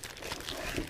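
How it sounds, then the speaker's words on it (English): A protective film bag folded over before packing an exposed film roll from an ARRIFLEX SR3 camera into a tin, giving a brief, close plastic crinkle that lasts about a second. "Fold the bag over."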